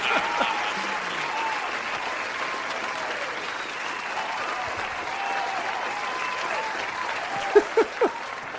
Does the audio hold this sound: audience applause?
yes